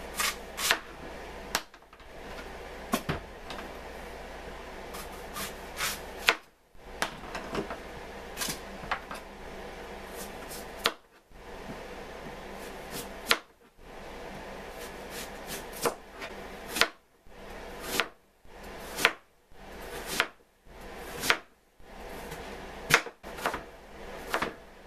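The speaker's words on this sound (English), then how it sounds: "Now I'm going to cut this turnip." A knife cuts a turnip into small bite-sized pieces on a board, giving a long run of sharp, irregular chops and taps, close and clear, with brief pauses between bursts.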